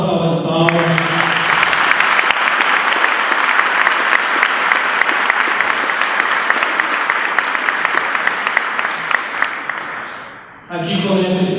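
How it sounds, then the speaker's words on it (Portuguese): A large audience gives sustained applause, a loud, dense wall of clapping that runs for about ten seconds and then fades out as a voice resumes talking. "Vamos dar uma salva de palmas."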